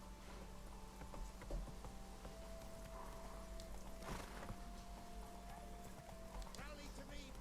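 Roach the horse galloping in The Witcher 3, faint rhythmic hoofbeats running under a steady low game ambience with scattered voices.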